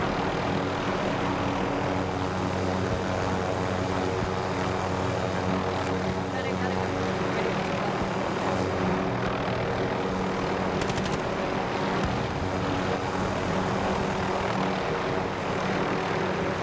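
A helicopter in the Call of Duty Modern Warfare 3 video game, a steady loud engine and rotor drone running throughout, with players talking over it.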